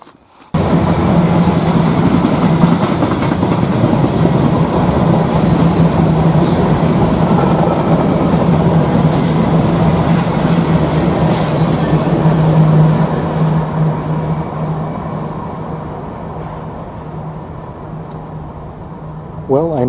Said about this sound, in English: I can definitely hear a train coming from a good distance away.